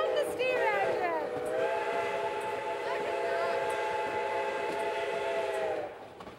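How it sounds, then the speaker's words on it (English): White Pass and Yukon Route steam locomotive at Whitehorse sounding its steam whistle, a loud sustained chord-like blast that starts with a wavering rise, holds steady for several seconds and then cuts off. "We're on the steam engine."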